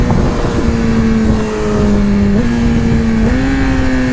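Yamaha R6 sport motorcycle engine held at a steady high note, with pitch dips and blips at each shift, loud and close throughout.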